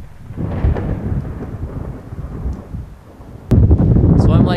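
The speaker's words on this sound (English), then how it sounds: "Hate to be up here in a lightning storm." Thunder rolls and rumbles low and heavy during a lightning storm on a mountain ridge near Saddle Peak, with wind buffeting the microphone, then a sharper, louder crack and boom near the end.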